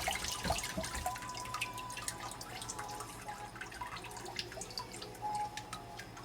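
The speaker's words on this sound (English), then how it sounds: "we are going to pull the shrimp from the water. Let that drain." Water drains off freshly cooked shrimp in a home kitchen: scattered, faint drips and trickles patter irregularly, close by, with no voices.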